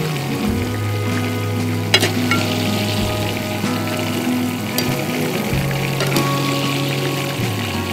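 Chicken frying in oil over high heat, a steady close sizzle and crackle that runs on without a break, with occasional small pops and no talk.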